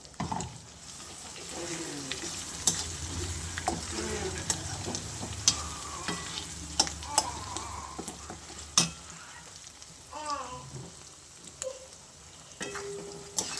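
Ridge gourd sizzles gently in a pan with soft crackling, punctuated by clicks and scrapes of stirring and a few faint voice sounds.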